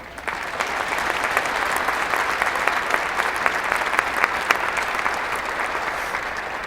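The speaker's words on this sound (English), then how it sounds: "Let us give a round of applause for Provost Kretschy" Applause from a large audience at a university winter commencement ceremony, sustained and even, a broad crowd of clapping heard from within the hall for nearly seven seconds.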